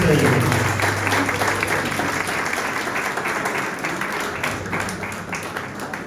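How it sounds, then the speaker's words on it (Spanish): An audience at a Catholic talk for Carmelite lay members applauds continuously. The clapping is dense and sustained and fades slightly toward the end over a faint steady hum. "Un aplauso para ustedes."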